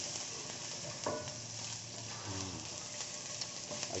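Sliced ginger fries in hot oil in a pan for fried bangus with black beans, a steady close sizzle with a few soft stirring scrapes and clinks.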